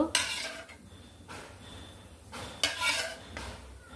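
A pot of fried fish and ridge gourd curry gets covered, with a few sharp metallic clanks and scrapes of a lid and utensil against the pan, spaced irregularly, loud and close, with quieter gaps between them.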